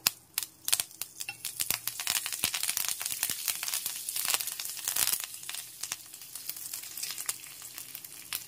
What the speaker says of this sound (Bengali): এবার আমি এর মধ্যে দিয়ে দেবো কারি পাতা